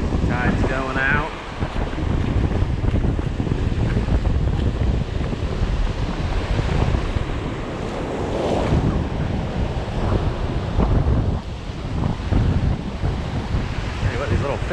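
Wind and waves of an outgoing evening tide at a fishing beach, a steady loud roar of surf and gusting wind noise across the microphone with no break.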